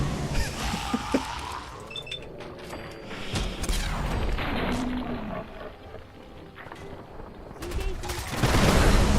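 A gamma gun fires at ghouls in Fallout 4 amid chaotic combat, with repeated crackling discharges, creature growls and mechanical clatter, and someone talking over the fight.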